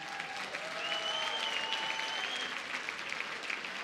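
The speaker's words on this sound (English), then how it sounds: "Give them a big round of applause, ladies and gentlemen" Applause from the crowd at the Pride of Sport 2019 awards ceremony for the winners, a soft, continuous wash of many hands heard at a distance, steady throughout with faint tonal sounds drifting over it.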